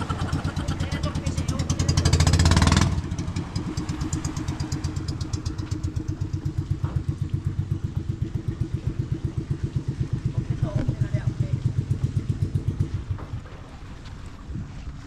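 A mother boat's engine runs with a rapid, steady rhythmic chugging pulse, loud and close, with a brief surge of wind or rushing noise early on before the engine continues alone.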